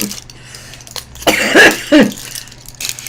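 Two sharp coughs come close together near the mic, preceded by a faint throat sound, then quiet.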